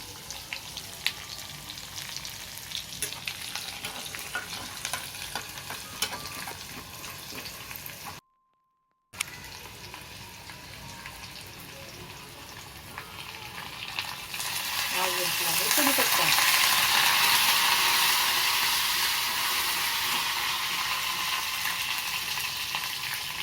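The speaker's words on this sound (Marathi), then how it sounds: "एक चम्मच जिरं आता आपण टाकणार आहोत चिरून घेतलेलं लसूण" Cumin seeds and chopped garlic hit hot oil for a cabbage stir-fry tempering: a steady low sizzle that swells into a loud, bright crackling fry midway and stays strong, close by, with no talk.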